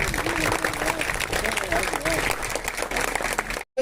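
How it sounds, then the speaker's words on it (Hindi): Audience applause at a school victory celebration for students of a government Urdu and English school in Srinivaspur, dense steady clapping throughout with some voices mixed in, cutting off abruptly near the end. "जोरदार तालियों के साथ।"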